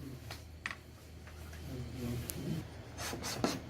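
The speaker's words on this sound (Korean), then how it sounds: "살짝 나온 거는 전부 대패로 다듬습니다." A hand plane rubs across wood in short strokes, trimming small protruding bits on a furniture piece, giving several brief rasping scrapes against a quiet background.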